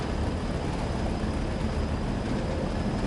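Class 6 heavy freight train running in Train Sim World 2, a steady broadband rumble and hiss of rolling wagons with a thin high tone, continuous and unchanging, no talk.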